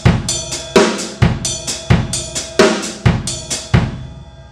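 Linear drum kit pattern in a 5/3 grouping, accents on the and of 1 and the and of 3, sharp close hits with cymbal wash in a steady repeating cycle, moderately loud with no voices.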